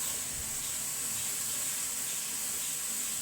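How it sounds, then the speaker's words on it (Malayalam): Tea boiling over on a kitchen stove gives off a steady, even hiss of steam and spray, with no talk over it. "ചായ തിളച്ച ഓഫ് ചെയ്യണേ."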